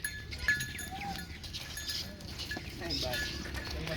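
Goats and castrated bucks at a goat farm in Dera Ghazi Khan give a few faint, short bleats amid shuffling and low farmyard noise, while voices murmur in the background.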